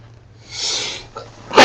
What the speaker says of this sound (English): this dry air is making me sneeze.